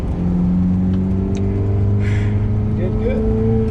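A 2007 Ferrari F430 engine held in first gear, a loud steady mechanical drone close to the cabin, with a brief rising rev near the end and faint voices underneath.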